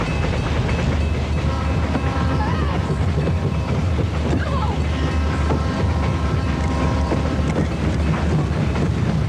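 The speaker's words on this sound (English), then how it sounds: "I felt real tension as that train and death came bearing down on these kids." A train bearing down during a tense film scene gives a loud, continuous rumbling roar with rattling clatter that holds steady throughout, with no pauses.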